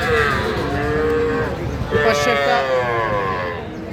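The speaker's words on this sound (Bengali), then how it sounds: "দুইটাই বকনা বাছুর" Young heifer calves at a cattle market give loud, close, drawn-out moos, one after another, with people talking in the background.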